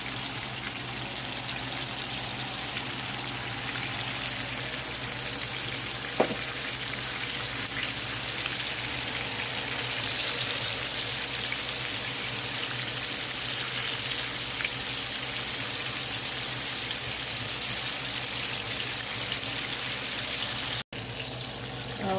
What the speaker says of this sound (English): let's get some of that chicken that's frying